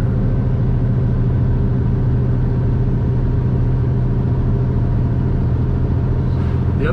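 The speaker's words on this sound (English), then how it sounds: "Time to downshift again." A heavy truck engine drones steadily and loudly after a downshift to ninth gear, a constant low rumble with a faint rising whine near the end.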